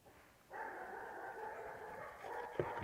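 A dog gives a sustained, high-pitched whimper that holds steady for a couple of seconds and ends with a short, sharp bark, close by and fairly quiet.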